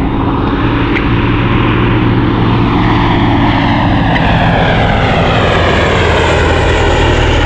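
Bristol F2b biplane flying a display at the Shuttleworth air show, its piston engine and propeller droning loud and continuous as it passes, with the pitch shifting as it moves overhead.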